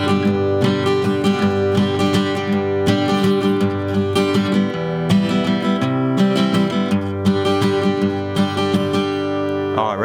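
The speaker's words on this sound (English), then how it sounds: "I want to give you a variation to that strumming pattern that you can use whenever you want to build up the energy a little bit." An acoustic guitar strummed in a 3/4 root, down, up pattern as a variation that builds energy, with rhythmic chords ringing clearly and alone with no talking.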